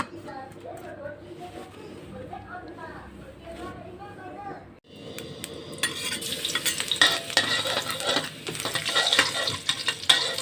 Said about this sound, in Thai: เราจะผัดกระเทียมให้หอมเลยนะคะ